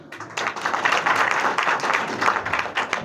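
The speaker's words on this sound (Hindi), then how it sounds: "प्लीज तालियों से स्वागत करें।" A crowd applauds to welcome guests at a gathering of rural doctors, steady dense clapping that starts after a brief pause and continues evenly at moderate distance, with no talk over it.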